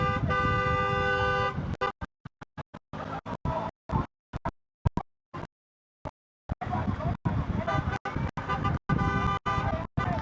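A chorus of car horns blares together at a cycling stage race, a sustained chord of honks that breaks into choppy bursts of traffic and crowd noise.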